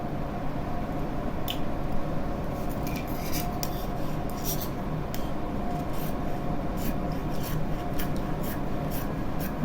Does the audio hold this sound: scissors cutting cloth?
yes